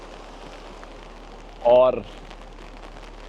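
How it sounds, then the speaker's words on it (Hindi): Heavy rain beginning to fall at a riverside glamping site in Uttarakhand, India, a steady close hiss of drops on surfaces throughout, with a short spoken word partway through. "तो आप देख ही रहे हो कि तेज़ बारिश शुरू हो गई है"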